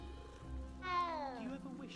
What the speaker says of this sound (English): I do hope they fix your meows at some point